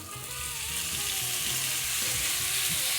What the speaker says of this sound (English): You know it's hot enough when you can hear that sear.